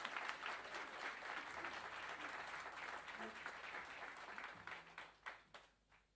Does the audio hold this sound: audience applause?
yes